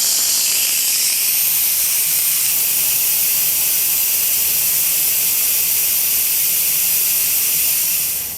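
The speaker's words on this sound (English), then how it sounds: "So now that all the steam has been released" A loud, continuous hiss of steam rushes from an Instant Pot pressure cooker vent at a constant level for several seconds, then tapers off slightly at the very end.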